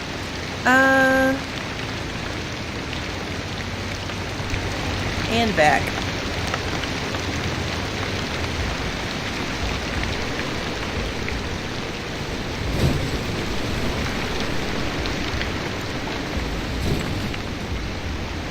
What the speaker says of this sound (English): Is it me or is the rain sound louder tonight?